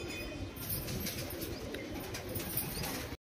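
A pair of Madrasi pigeons in a loft, with soft cooing and brief rustles of wings over steady close background noise, moderately quiet and continuous, and no talking, ending in abrupt silence.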